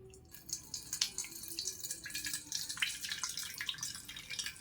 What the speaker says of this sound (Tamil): இப்போது இந்த தண்ணியை இன்னொரு பவுலில் சேர்த்து